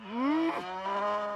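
A cartoon cow from The Simpsons gives one long, loud moo that rises and then bends into a second held lowing note, heard close and alone.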